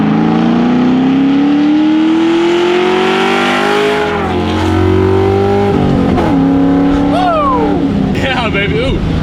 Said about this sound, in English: we're going to take it out, take it for a little spin, make sure she's running well enough for autocross at least